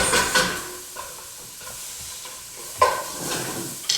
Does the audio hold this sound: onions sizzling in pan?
yes